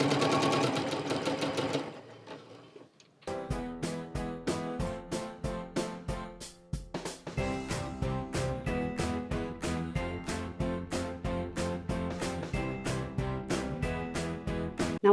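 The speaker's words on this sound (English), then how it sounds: "Now we've sewn all the way across," Sewing machine stitching fabric scraps together: a brief whirring burst, a short pause, then a steady run of fast, evenly repeated needle strokes, close and clear with no talk.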